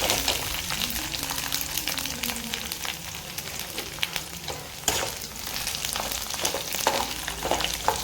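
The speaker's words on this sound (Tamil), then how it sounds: "பூண்டு கொஞ்சம் பொன்னிறமாக வறுபட்டதும் இஞ்சி கொஞ்சம் சேர்த்துக்கணும்" Garlic frying in a pan until golden, a steady broadband sizzle that holds for the whole stretch, close and fairly loud, with occasional stirring scrapes and brief clatters, no talk.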